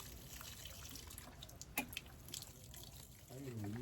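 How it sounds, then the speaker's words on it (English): Diluted fertilizer poured onto potted plants, a faint trickle and patter of water with occasional drips, quiet and close, with a voice talking in the background. "now I'm going in with a diluted fertilizer to kind of water all that in"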